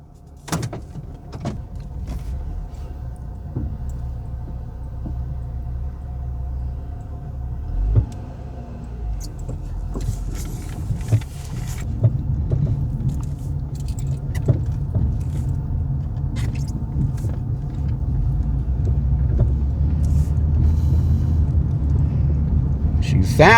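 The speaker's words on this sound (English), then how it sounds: "we're gonna take it on a quick drive" A 2007 Ford Taurus on a short road drive, its engine and tire rumble holding steady and building slightly over the stretch, with a few thumps and clicks from inside the cabin.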